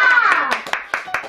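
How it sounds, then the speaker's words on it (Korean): A small group, children and a teacher, clap in time to end a session of Korean folk singing. Sung shouts come first, then several sharp, close claps at a brisk, uneven rhythm. "박수치면서 마치겠습니다."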